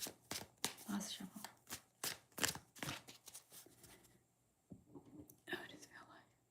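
Tarot cards are shuffled with quick repeated riffling snaps under soft whispering, then the shuffling slows and a few quieter card taps follow.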